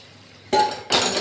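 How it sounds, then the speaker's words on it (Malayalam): Water is poured into a cooking pot of salted tomato buttermilk curry, arriving as two loud, close, rushing bursts, the second continuing steadily to the end. "നന്നായിട്ട് വെള്ളം ഒഴിക്കുക അതിനകത്ത്"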